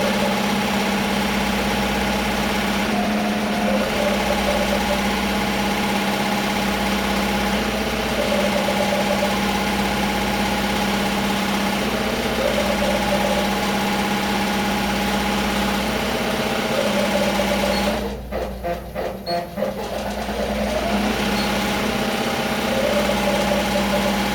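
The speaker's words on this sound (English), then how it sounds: "can see how comfortably the machine operates even at maximum sewing speed" A Happy HCD2 single-head embroidery machine stitches a ballcap at its top speed of 1,000 stitches per minute, a steady, even mechanical hum and rapid needle chatter that runs on without a break and briefly shifts in tone near the end.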